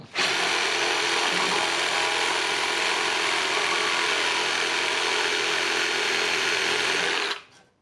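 A Korean-style pull saw cuts through wood with a loud, steady, rasping noise that runs unbroken for about seven seconds, then stops abruptly.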